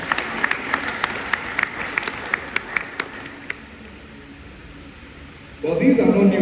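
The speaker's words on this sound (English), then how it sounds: "A round of applause for them." An audience at a filmmakers summit claps for a drama troupe in a steady, fairly sparse rhythm that fades after a few seconds, followed by a loud burst of crowd noise and voices.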